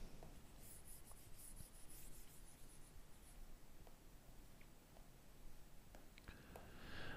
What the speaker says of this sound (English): So let me just erase it a bit.